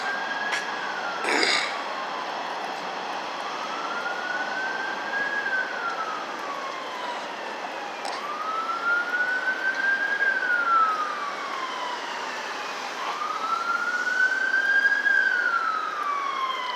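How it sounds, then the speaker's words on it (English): Wailing emergency siren from an EMT vehicle coming up a city street, its tone rising and falling in long sweeps over steady traffic noise, moderately close and growing slightly louder. "Sounds like a EMT cruiser coming up the street."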